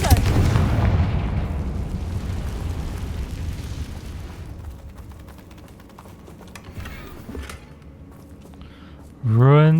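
A Confringo fire spell explodes in the video game Hogwarts Legacy with a heavy, booming blast up front that rumbles and fades over several seconds, followed by a short voice at the end.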